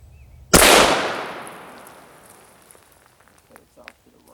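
A rifle firing a 25 GPC hunting load sounds one loud, sharp report at close range, followed by a long fading echo and a few small noises afterward.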